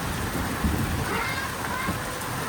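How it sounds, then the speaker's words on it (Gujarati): Heavy rain pours in a dense, steady, loud hiss that fills the whole stretch, with a voice speaking over it. "આમ જો વરસાદ કેટલો છે ગાઈસ ઘણો બધો વરસાદ છે"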